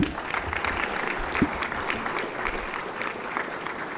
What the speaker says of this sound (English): Let's give another round of applause for Mickey for his leadership.